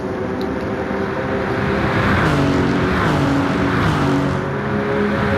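Race cars roar across a start-finish line at a circuit, a dense, continuous engine drone with shifting pitch as several cars pass close by.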